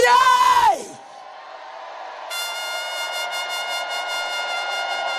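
Congregation at a Haitian church prayer service shouting together, a loud burst of raised voices that drops away into a sustained, droning crowd roar with a higher held vocal tone joining midway.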